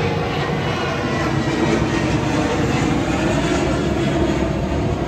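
A Honda Marine 250 outboard engine revs hard above 3300 rpm, producing a dense, continuous, loud roar that holds steady without pause.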